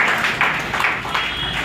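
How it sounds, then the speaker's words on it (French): An audience at a political party anniversary event claps, a brief, continuous patter of applause at moderate loudness. "Applaudissez-vous encore parce que ça fait quand même la joie."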